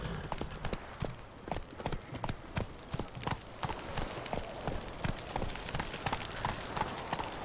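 Horse hoofbeats galloping in The Witcher 3 video game, a fast, steady clip-clop rhythm that carries on without a break over a soft background, with no speech.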